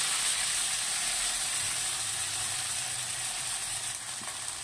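Chicken soup ingredients browning in a hot pan with tomatoes for a breakfast dish, giving a steady, close sizzling hiss that holds without pause.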